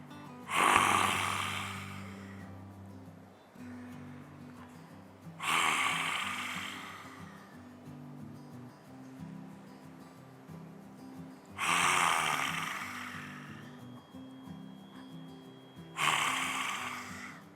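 Lion's breath pranayama, a yoga breathing exercise: four loud, forceful roaring exhales come at regular intervals of about five seconds, each a harsh breathy rush that fades out, with quieter inhales between them and steady low background hum.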